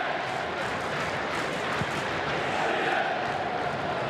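Home crowd at a 2012 Wellington Phoenix versus Sydney football match, a steady roaring wash of cheering and noise that stays loud and unbroken throughout, with no distinct individual voices.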